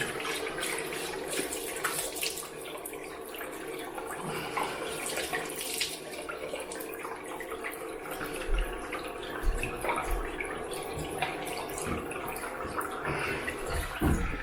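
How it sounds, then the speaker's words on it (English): Tap water runs steadily to rinse off after a shave with a vintage Gillette Slim Adjustable razor, a continuous close splashing rush lasting throughout with no talking. "I'm going to rinse this off now."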